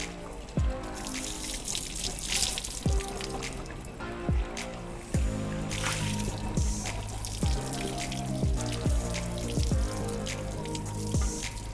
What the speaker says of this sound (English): let's turn on the water and give a thorough rinse